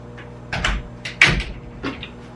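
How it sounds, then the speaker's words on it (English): A pull-out drawer in a hotel kitchen slides open, giving a few short wooden knocks and rattles over about two seconds, close by and moderately loud with no voices. "has a pull-out drawer which is filled with all my little knickknacks from a kitchen"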